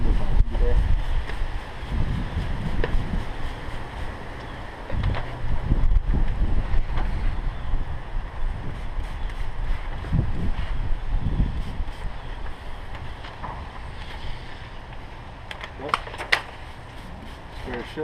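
Wind buffets outdoors on a roof during a roof coating job, rumbling and gusting hard against the microphone, with people talking at times.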